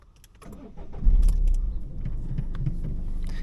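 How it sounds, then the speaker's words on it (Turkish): A Citroen C-Elysee 1.6 HDi diesel engine cranks and catches, swelling into a steady, close, low idle rumble with no one talking. "Önce şöyle bir marşımızı yapalım."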